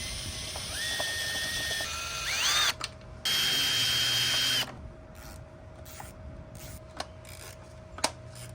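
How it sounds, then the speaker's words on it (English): A power driver spins out cracked-loose intake manifold bolts on a boosted 2.5 five-cylinder Jetta, with whirring bursts rising in pitch, a long sustained run, then clicks and clanks of parts being handled. "And now I'm just going to use this driver now that they're cracked loose."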